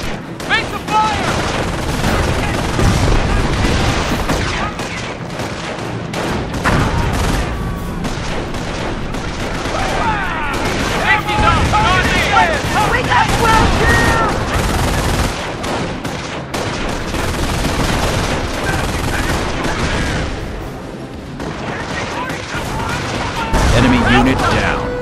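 Sustained battlefield gunfire in Company of Heroes, a dense mix of machine-gun bursts, rifle shots and heavy booms rolling on without pause, with shouted voices mixed in throughout.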